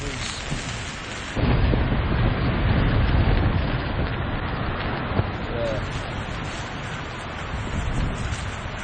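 Strong wind roaring through the treetops above a winter wild camp tent in the Lake District, a loud sustained rushing gust that swells and eases, with a rain-like patter.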